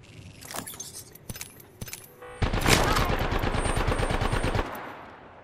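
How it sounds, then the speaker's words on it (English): Gunfire in the battle-royale shooter Apex Legends: a few separate sharp shots, then a fast, loud, close automatic burst lasting about two seconds before it stops. "Shot to your left, Octane."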